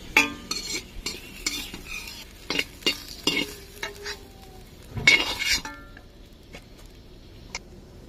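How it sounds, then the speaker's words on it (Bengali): Potato pieces dropped into hot oil for a Bengali potol chingri dish, giving a crackling sizzle with repeated scraping and stirring clatter, louder bursts in the first six seconds, then a quieter sizzle with a few ticks. "তেলের মধ্যে আলু দিয়ে দিচ্ছি"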